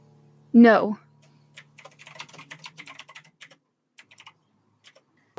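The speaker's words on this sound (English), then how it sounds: "Oh, typing happening" Rapid light clicking of keys on a computer keyboard, irregular and fairly close, following a short vocal sound at the start.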